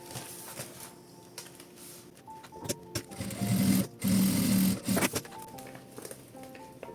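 A sewing machine runs in short stop-start bursts while stitching a makeup pouch with a clear plastic panel, loudest in the middle, with light handling clicks around it.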